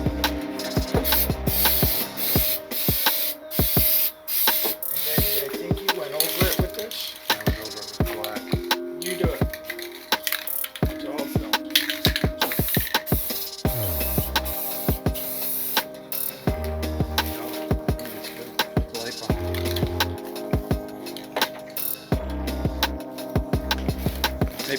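Gray paint mist is sprayed onto an epoxy desk in many short, sharp hissing bursts, close and loud, separated by brief gaps and occasional clicks from the spray nozzle.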